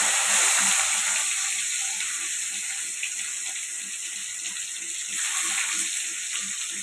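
Sliced onions fry in hot oil in a pan for rava kitchadi, a steady, close, bright sizzle that carries on without a break.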